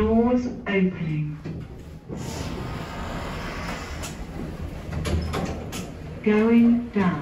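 A Keighley Mod hydraulic lift at Fenwick in Tunbridge Wells slides its doors open with a steady, rumbling mechanical whir, bracketed by a recorded voice announcement before and after.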